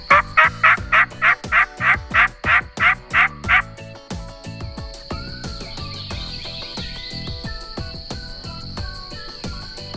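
A wild turkey gobbles in Georgia during hunting season, a rapid loud burst of about a dozen rattling notes lasting several seconds, followed by quieter outdoor ambience.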